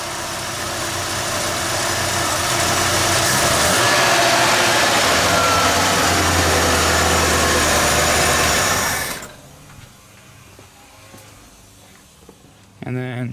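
Carbureted engine of a junkyard Ford Bullnose truck fires up and runs steadily, loud and rough near the microphone for about nine seconds, then cuts off abruptly, leaving quieter background noise.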